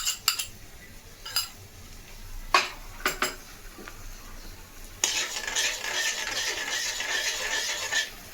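A mustard and poppy seed paste is stirred in a pan over high heat: a spoon clinks and scrapes against the metal a few times, then a steady sizzle rises and continues under the stirring.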